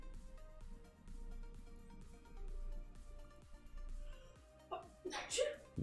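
A single sneeze bursts out near the end, sharp and brief, following a stretch of quiet game music and background talk.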